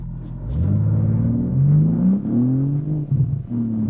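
BMW M3 CS Touring wagon accelerating hard, engine rumbling and rising in pitch through the revs in a smooth climb, with a brief gear change near the end, heard loud from inside the car.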